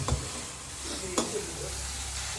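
Leaves for sambar vadi are sautéed in a pan with a soft, steady sizzle, broken by a couple of sharp clanks of a spoon against the pan near the start and middle, heard close with no talk.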